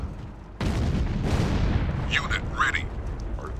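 Artillery firing in the Sudden Strike 2 war strategy game, a heavy booming blast that rolls into a sustained rumble, with brief radio-style voices cutting in over the tail.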